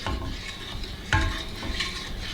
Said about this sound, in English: you just want to keep stirring it